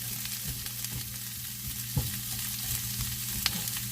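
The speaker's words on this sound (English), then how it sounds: "you just want to saute them up" Vegetables for steak fajitas sautéing in a pan: a steady, close sizzle with occasional clinks and knocks from a stirring utensil, and no voices.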